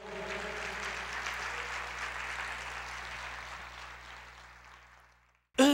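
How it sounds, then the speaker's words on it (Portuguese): Church congregation applauding during a worship service, a broad wash of clapping that swells early and slowly fades, ending with a sudden loud burst at the close. "Pode aplaudir o Senhor."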